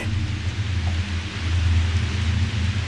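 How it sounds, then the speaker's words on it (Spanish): Heavy rain pours steadily with deep rumbling thunder rolling underneath, a loud, dense storm sound effect with no voices. "En un momento empezó a llover horrible."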